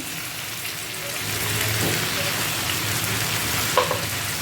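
Cumin seeds frying with a little tamarind in a pan for mint chutney, a steady broadband sizzle that swells after a second and holds, with a faint clink near the end.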